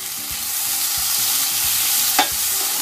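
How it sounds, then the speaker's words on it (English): Vegetarian chow mein sizzles loudly in a pan with oyster sauce and sesame oil as it is stirred, a dense constant frying hiss broken by rhythmic scraping strokes and one brief clatter near the end. "And do another stir here."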